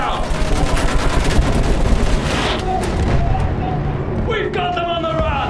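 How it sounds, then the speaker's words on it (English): Sustained machine gun fire in Battlefield 1's Storm of Steel campaign, a loud continuous rattling stream of shots with distant battle booms, fading slightly toward the end as a voice talks over it. "Use that machine gun. Slow them down."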